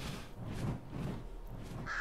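Bird cawing in a video game, faint raspy crow calls repeated a few times over a soft ambient bed.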